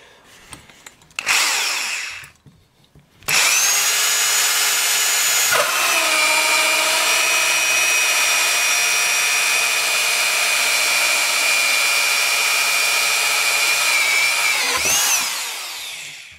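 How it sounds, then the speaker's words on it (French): A loud SDS Plus rotary hammer drill fitted with a hole saw spins up after a couple of short bursts and grinds steadily through wood for about ten seconds, then winds down. "j'ai mis ma scie cloche sur un appareil SDS Plus avec un adaptateur"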